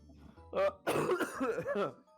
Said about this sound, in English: That was a big ass cough.